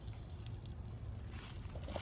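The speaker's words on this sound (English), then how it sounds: "There's water running." Water from garden watering trickles and drips softly and steadily, a faint continuous burble with no one speaking.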